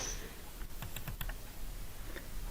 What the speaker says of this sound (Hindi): यहाँ पे चलता हूँ और मैं करता हूँ यहाँ से डबल क्लिक।